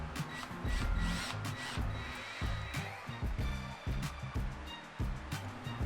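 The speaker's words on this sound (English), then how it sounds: "Drill some holes in the rail and attach it with a couple screws." Power drill boring holes into a wooden tablesaw rail, repeated short bursts of whirring with brief pauses between them, close and fairly quiet.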